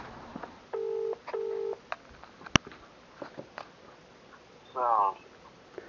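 Two short dial tones beep in quick succession, followed by a sharp click and, later, a brief warbling phone tone amid quiet background.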